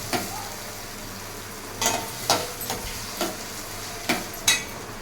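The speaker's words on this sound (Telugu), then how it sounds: "ఉల్లిపాయ ముక్కలు త్వరగా వేగిపోయాయి" Sliced onions, green chillies, raw prawns and eggs fry in oil, giving a steady hiss with a handful of sharp scrapes and clacks as the pan is stirred, close and fairly quiet, with no voices.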